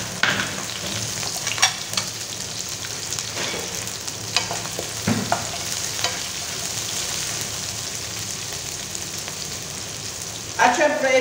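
Chopped onion hits hot olive oil for a curry, producing a steady, close sizzle and crackle with occasional stirring clinks throughout.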